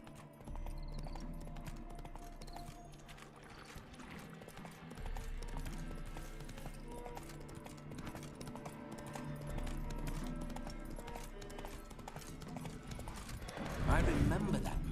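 A horse's hooves clip-clop at a steady walking rhythm while riding in The Witcher 3 video game, sounding close and continuous under background game music, with a brief louder burst near the end.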